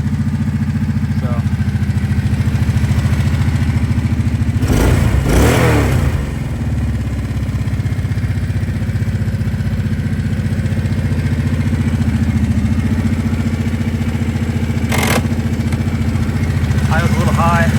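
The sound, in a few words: Kawasaki Prairie 700 ATV engine running and revving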